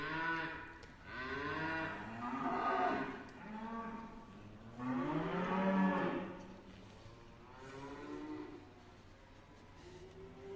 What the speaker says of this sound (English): Dog meets cow